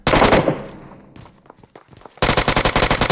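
Automatic gunfire in PUBG Mobile comes as loud rapid bursts, one at the start and another at the end, with a quieter gap between that holds faint scattered clicks and game sounds.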